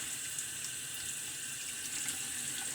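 Running water from a tap rinses lather out of the back of a vintage Eagle safety razor at a sink, a steady close hiss that holds evenly for the whole stretch.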